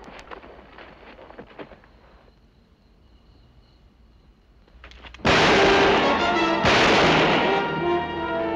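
A gunshot in a 1963 western film: after a quiet, tense stretch, a loud, sharp blast erupts at about five seconds, followed by a second close shot and sustained loud ringing echo to the end.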